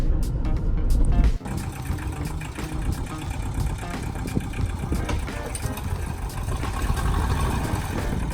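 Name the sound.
old Jeep being moved out of the way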